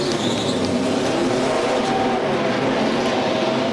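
NASCAR stock car pulling away from its pit box after a four-tire change during the 2008 Ford 400 at Homestead-Miami, a steady loud engine roar with faint tire noise amid dense crowd and track racket.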